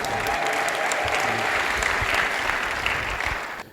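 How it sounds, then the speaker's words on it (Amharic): Loud, dense applause with joyful ululation fills a church congregation, sustained and close for several seconds before tapering off at the end. "ለጌታ እልልታ ጭብጨባ"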